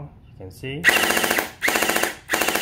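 An electric gel blaster toy gun fires in three rapid, buzzing bursts, loud and close, right after a brief spoken phrase.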